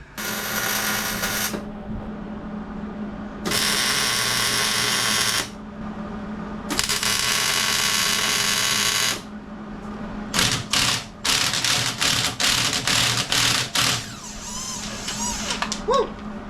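Welding nuts onto locking lug nuts that have no key, with bursts of buzzing, crackling arc noise, three long runs followed by a string of short stuttering bursts, close and loud.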